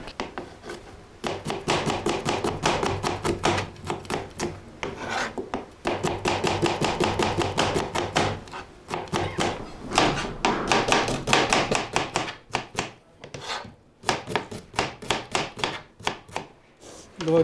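Onions being chopped with a knife on a board, about two onions' worth, for a Nepali matka katiya dish: loud, steady rapid bursts of close knife taps with short pauses between runs, no talking.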